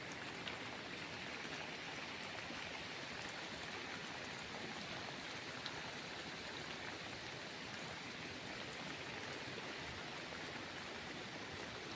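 Heavy rain pours steadily near a seashore during cast-net fishing, a dense, unbroken hiss that stays even throughout with no voices.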